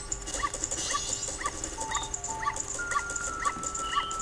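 Dog in Majora's Mask whimpering in a series of short, high, evenly repeated whines roughly every half second, fairly soft over a low steady game background.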